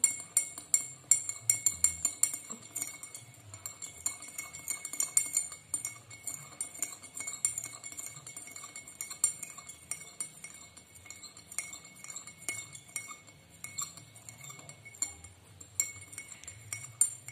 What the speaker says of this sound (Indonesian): Kita masukkan 1 sendok teh gula ke dalam air yang panas. Kita aduk.